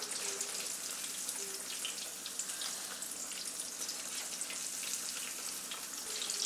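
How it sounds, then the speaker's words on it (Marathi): Steady, bright sizzling of potato spring fries frying in oil in a pan on a large burner over medium gas, continuous and close with no talking. "4 सोडून घेतलेले आहेत आणि एवढेच आपण चांगले फ्राय करायचे"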